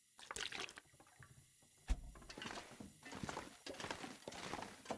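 Water being collected in The Long Dark, a splashing, trickling pour with soft clip-clop knocks and a sharp thud partway through, heard close and fairly quiet with no talk.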